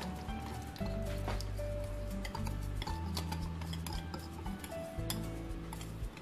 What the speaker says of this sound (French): Je vais mélanger le chocolat avec le sucre.